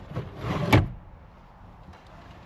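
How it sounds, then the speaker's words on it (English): A drawer-style glove box in an Aptera electric vehicle sliding open or shut with one close, rushing slide ending in a firm thunk, then quiet with a faint click at the end. "it's got this glove box, which is a kind of a drawer, which is kind of cool."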